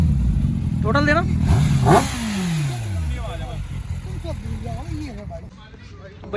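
A stock-exhaust Kawasaki ZX10R motorcycle revs nearby, with rising and falling engine pitch over a steady idle, while people talk throughout.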